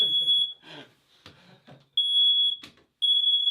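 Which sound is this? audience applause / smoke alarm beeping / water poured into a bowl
smoke alarm beeping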